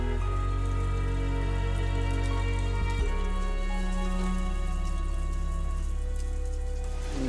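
Rain falling in the Fukushima farming region, heard as a constant close patter of drops on a surface, set against a low steady hum.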